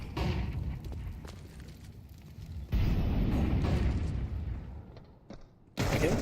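Molotov fire in Counter-Strike, a dense roaring, crackling rumble that swells, briefly dips and surges again, loud and close, with no voices over it.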